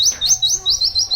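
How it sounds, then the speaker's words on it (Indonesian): Pleci (white-eye) bird calling with a quick series of high, bright chirps in a steady repeating rhythm, close and clear with no talk. "supaya panggilan burung si pleci keras ya"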